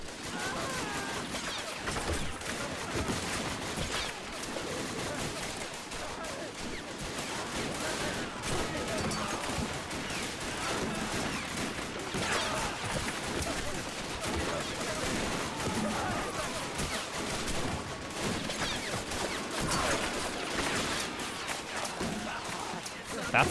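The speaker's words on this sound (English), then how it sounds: "Oh, he's being bombarded with grenades." Gunfire and grenade blasts fill a World War One winter battle video game as German soldiers storm French defences, a dense and unbroken din of rifle and machine-gun fire that stays loud and close throughout.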